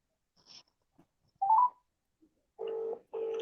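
A phone call is being placed, with a few short electronic beeps followed by two steady ringback tones, each lasting about half a second. The tones sound clear and close against silence, with no talking.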